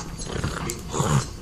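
A dog growls steadily and closely while tugging on a toy, the low rumbling rising in two stronger surges against faint mechanical-sounding rasps.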